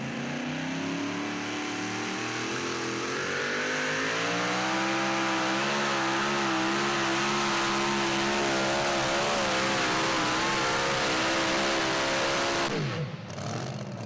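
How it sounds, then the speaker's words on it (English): A super modified 2WD pulling truck roars continuously at high revs during a pulling run, loud and sustained with rising pitch, before the engine cuts off near the end. "here comes Keith Long in the Riding Dirty truck"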